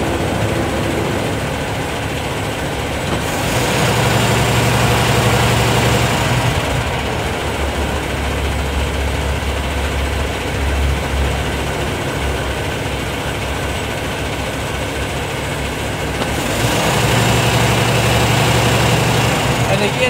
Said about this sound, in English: I'm waiting 9 seconds for the engine to wind back down